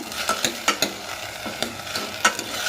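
Spoon stirring and scraping dry-roasting lentils and spices in a pan for Iyengar-style avare bele sambar, with soft irregular scrapes and clicks over a faint steady sizzle, close and moderately loud.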